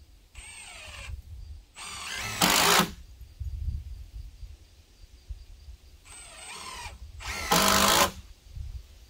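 Screws go into a board on a wooden deer blind tower: a cordless drill whines in short bursts, then a louder grinding drive as each screw seats, two rounds in total with quiet gaps between.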